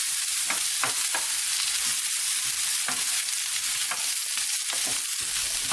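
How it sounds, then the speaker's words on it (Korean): Onion and cherry tomatoes stir-fry in a frying pan, giving a steady close sizzle broken by intermittent scrapes and taps of a utensil against the pan, with no talking. "방울토마토를 프라이팬에 넣고 같이 볶아주세요."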